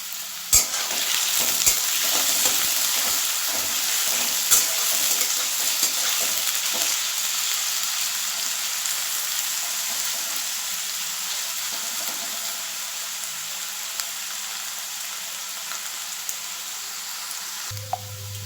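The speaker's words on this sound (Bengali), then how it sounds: "আমি আলুটা একটু আগে হালকা করে একটু ভেজে নেব" Potatoes lightly frying in a pan give a steady, loud, close sizzle with occasional stirring clicks throughout, no talk over it.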